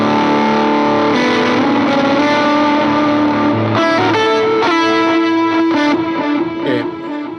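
Electric guitar played through stacked drive pedals on a budget worship pedalboard, loud and high-gain with thick, saturated distortion as sustained chords and notes ring out without any talking.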